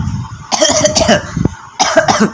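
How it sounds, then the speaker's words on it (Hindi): Several loud, close coughs come in quick bursts, a short rough fit, followed by another pair of harsh coughs after a brief gap. "मुझे खांसी आ रही है।"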